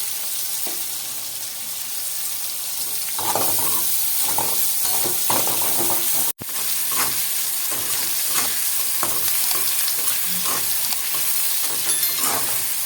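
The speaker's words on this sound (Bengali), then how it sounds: "হালকা হালকাই ভাজবো।" Rupchand fish fries in a pan with a steady, close hiss of hot oil, joined partway through by clattering and scraping as the pieces are moved, with a momentary cut near the middle.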